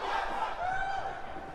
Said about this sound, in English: has this crowd on their feet, has this crowd cheering for Johnny Gargano.